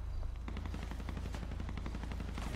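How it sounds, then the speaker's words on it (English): Rapid gunfire crackles in a GTA roleplay game, a fast run of shots in bursts, moderately close and fairly quiet overall. "Who's shooting right now?"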